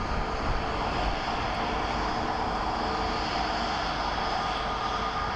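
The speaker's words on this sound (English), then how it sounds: "Our plane from Santa Ana is taxiing in." An airliner arriving from Santa Ana taxis in at Phoenix Sky Harbor airport, its engines producing a loud, steady roar with a constant hum that holds without change and no speech.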